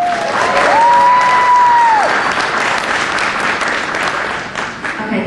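An audience at a panel event breaks into loud applause and cheering, with a sustained whistle near the start and clapping that holds steady before slowly easing off.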